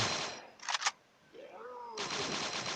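Gunfire in the shooter video game Crisis Action, with dense bursts of rapid automatic fire at the start and again at the end, a brief quieter gap between, and a voice speaking over part of it.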